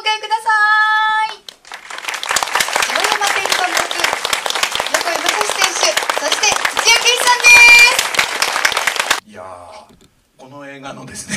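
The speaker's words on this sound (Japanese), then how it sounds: "さあそれでは皆様盛大な拍手でお迎えください" Loud, sustained applause from an audience welcoming guests at a film screening event for a drifting movie, dense clapping under a host's voice that sounds alone briefly at start and after the applause ends.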